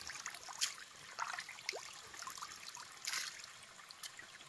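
Clear water from a mountain stream flowing steadily past, a soft, faint trickle and babble with occasional brighter splashes, heard outdoors with no voices.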